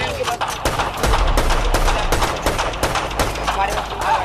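Rapid bursts of gunfire crack through a World War II shooter campaign in Brothers in Arms 3, sharp repeated shots in quick uneven volleys, loud and close, with a voice talking underneath.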